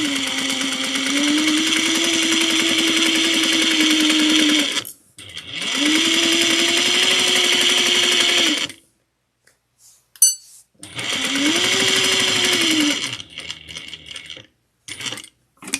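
Sewing machine stitching a tote bag pocket, running in three steady bursts of several seconds each, with short pauses and small clicks and handling noises in between; close and loud, with no talking.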